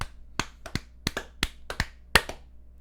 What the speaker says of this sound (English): Clapping hands.